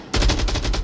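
Automatic gunfire in the VR shooter Onward, a short, loud burst of about six rapid shots in even rhythm that starts abruptly and rings on briefly.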